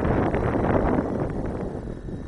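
Outdoors at a model-aircraft flying session, wind buffets the microphone in a continuous low, rough rumble that swells and eases slightly.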